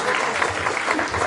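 Steady, dense applause from an audience at a women's rights day event, a brief close burst of many hands clapping with no pauses.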